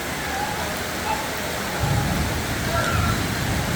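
Heavy rain pours steadily over a flooded street in Manila, a dense continuous wash of close, loud rainfall with a thicker surge partway through.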